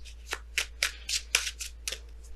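Close, crisp riffles and slaps of tarot cards being shuffled and pulled come as a quick series of about eight soft bursts over a low steady hum.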